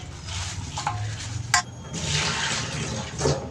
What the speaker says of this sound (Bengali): তো চিকেনটা এবার আমি ভালোভাবে ধুয়ে নেব।